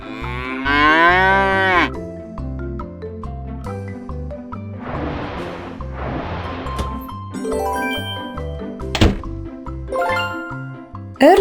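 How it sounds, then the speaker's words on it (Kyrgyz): In a children's cartoon about farm animals, a cow lets out a loud, wavering moo lasting over a second, then cheerful background music with jingling, bell-like tones carries on alone. "Уй."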